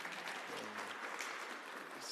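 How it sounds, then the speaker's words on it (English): A conference audience applauds the panelists with steady, even clapping from a crowd, heard at a distance and fairly faint, continuing without a break. "you are allowed to give my panelists a round of applause"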